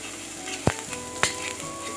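Onions sizzle steadily in a hot pan, with a couple of sharp clinks of a utensil against the pan.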